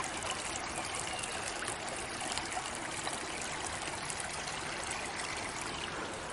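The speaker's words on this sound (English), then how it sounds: "And we've come up to a bit of a babbling brook." A babbling brook in a town forest flows over rocks with a continuous, even rushing and trickling wash, close and steady, with no voices.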